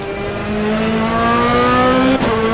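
A GT2 race car engine in the rFactor racing game at Mount Panorama, Bathurst, drones loudly and steadily and climbs in pitch under acceleration, then gives a brief dip as it shifts.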